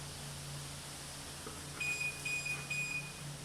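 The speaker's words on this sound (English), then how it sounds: "it'll give you another 3 audible tones so that you know the system is turned off" An HFK HM201 dash cam fitted to a motorcycle gives short, high electronic beep tones as the bike is switched off, faint and thin over a steady low hum.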